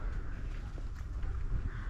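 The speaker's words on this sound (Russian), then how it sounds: "Ну и вороны орут." Crows cawing outdoors near a horse area, faint and somewhat distant over steady low background rumble, with a few scattered calls across two seconds.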